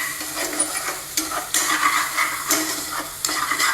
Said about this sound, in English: now we are sauteing the garlic